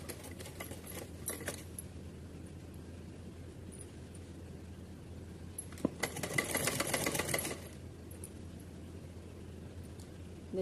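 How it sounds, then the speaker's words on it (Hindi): A sewing machine stitches a green summer dress for a small Kanha ji idol, running in a steady whirring burst in the middle between quieter handling sounds, close and fairly soft, with no talking. "चलिए इसको सिल के कंप्लीट कर लेते हैं पहले।"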